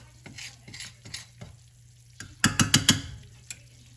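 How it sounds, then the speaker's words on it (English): Stirring and scraping tomato gravy in a hot pan with a steady sizzle underneath, rising to a louder burst of clattering stirs near the end. "When it starts really sizzling good and cooking"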